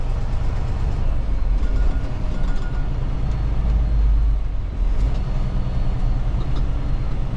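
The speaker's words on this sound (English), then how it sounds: "the truck is doing a regen, so if you guys can hear that, it's doing a regen" A Prime Inc. semi truck's engine runs a regen while driving, a deep, continuous droning rumble heard from inside the cab with slight swells and road noise throughout.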